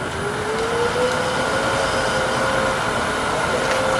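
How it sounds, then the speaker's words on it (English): Choo-choo train sound from a skew-turned wooden whistle at a woodturning demonstration, a steady whistling tone gliding slightly upward over a dense rushing breathy noise, loud and continuous with no talking. "But choo-choo train."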